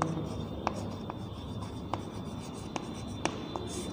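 Chalk taps and strokes on a classroom board as the pi r squared area formula is written, giving a few soft, sharp clicks spaced through low room hum.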